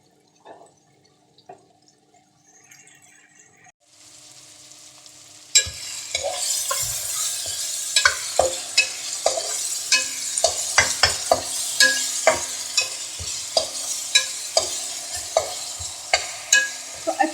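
Black chana masala stirred and fried in a pan: a quiet opening with faint knocks, then a steady close sizzle with repeated sharp scraping clicks from the spoon.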